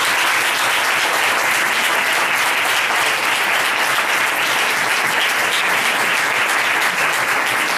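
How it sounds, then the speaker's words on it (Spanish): Dense, sustained audience applause fills a university lecture hall, a steady, even roar of many hands clapping for several seconds at a constant level with no talk over it. "para terminar de romper el hielo, pues yo pediría un aplauso."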